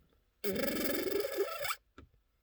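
A voice imitates a retro video-game sound: a sustained, bright buzzing tone lasting over a second with a rising sweep at the end, then a brief click.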